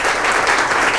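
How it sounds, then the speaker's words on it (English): A lecture audience applauds after a solar energy talk and Q&A, a dense, even wash of clapping from many hands, loud and continuous for the full second with no voices. "we could all show our appreciation by a round of applause"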